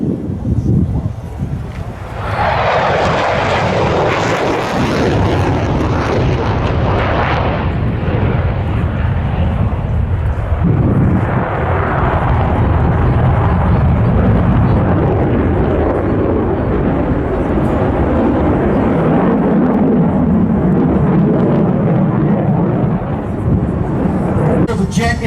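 F-35 Lightning fighter jet during a display manoeuvre at the RAAF 100th anniversary airshow, a loud, rumbling roar swelling and fading across the sky, with buffeting wind noise and occasional commentary beneath.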